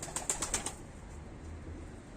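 A trained pigeon flaps its wings in flight, with a quick burst of about five crisp wing claps up close that fades into faint background noise.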